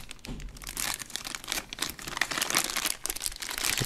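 Crinkling, crackling plastic wrapper as a tub of pink Play-Doh is unwrapped at close range, a dense continuous rustle with sharper crackles throughout and no talk.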